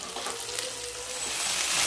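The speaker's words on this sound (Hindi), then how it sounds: "धीमे आंच में ना मैं ढक के फ्राई कर लूंगी" Okra (bhindi) frying covered over low heat: a dense, even hiss of oil sizzling that builds slightly toward the end, close and steady, with no voices.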